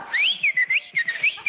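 A person whistles a quick, bright melodic phrase of several short swooping notes with a few brief pauses, close and clear, with faint rustling underneath and no talk.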